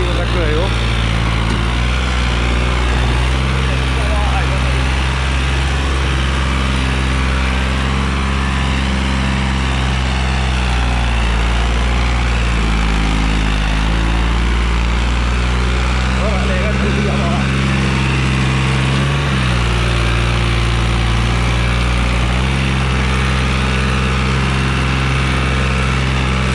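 A New Holland 3630 Super 50 HP tractor engine runs loud and steady nearby, a continuous low diesel drone with throbbing rumble and no breaks, while it pulls a loaded trolley.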